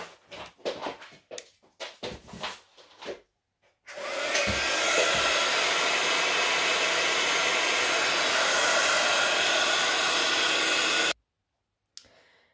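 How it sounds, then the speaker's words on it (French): After a few scattered clicks and handling noises, a heat gun blows continuously for about seven seconds, drying paint on a gel press print. The close, steady roar stops abruptly, and a few quiet knocks follow. "Et je vais venir sécher au heat gun."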